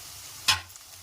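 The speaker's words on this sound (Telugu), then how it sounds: "ఆనియన్ ఫ్రై కావాలి ఆనియన్ ఫ్రై అయిపోయాయి" Sliced onions frying in a pan for a Telugu-style egg curry: a faint sizzle with one short, sharp scrape of stirring about halfway through.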